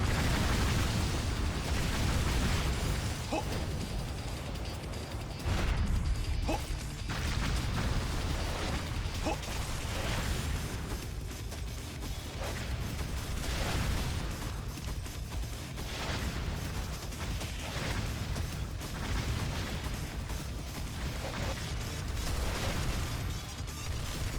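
Explosions in the video game Ninja Gaiden 3 go off in a dense, continuous stream of dull booms and bursts layered over steady game noise and music, with mechanical clanks scattered throughout.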